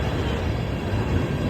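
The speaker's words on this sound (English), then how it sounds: "This is 3 trains." A passing train gives a steady, dense roar of wheels and rumble, loud and continuous for a short stretch with no voices.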